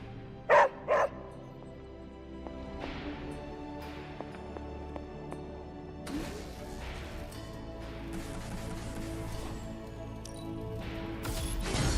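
A dog barks twice in quick succession near the start in the video game Marvel's Midnight Suns, loud and close, followed by a low ambient game soundscape with soft music and occasional clattering effects.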